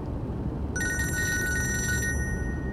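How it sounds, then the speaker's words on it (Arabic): A telephone rings inside a moving car, one bright electronic trill lasting over a second over steady road rumble, with no talking. "ما بدك ترد على التليفون يا ابني؟"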